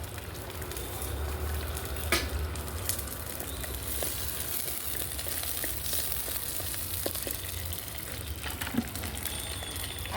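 Red chillies frying in hot oil in a home kitchen, a steady bright sizzle with faint pops and crackles throughout, close and continuous with no talking.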